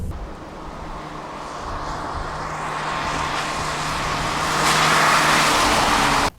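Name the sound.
car exhaust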